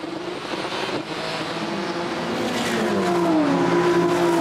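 Supercar Challenge race cars battle at Zandvoort, including a lime Ford Focus and an orange KTM X-Bow, with loud engines droning steadily and revving continuously as the pack passes.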